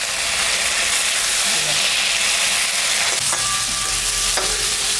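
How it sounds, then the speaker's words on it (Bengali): A paste of ginger, cumin and chili with turmeric and dried chilies sizzles loudly and steadily in a hot pan for a fish curry. Stirring scrapes now and then, and a faint tone rings near the end. "মশলাটা ভাজা হয়ে গেছে"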